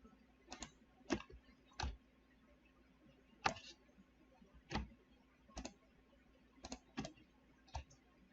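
A computer mouse clicks about a dozen times, sharp and isolated over a faint hum, spaced at irregular intervals and quiet overall, with no talk.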